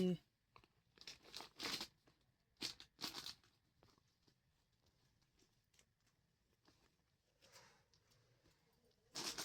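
A new festive clothing item is unwrapped from its packaging in a shop, with bursts of crinkling plastic and tearing wrapper coming in irregular, close rustles between quieter moments.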